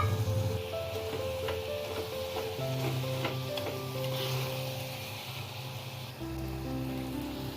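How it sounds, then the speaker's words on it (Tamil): Radish sautéing in a pan, a steady soft sizzle with faint stirring and spatula scrapes, and a low background hum throughout. "முள்ளங்கி நல்லா வதங்கினதும் தக்காளி ஆட் பண்ணிக்கலாம்."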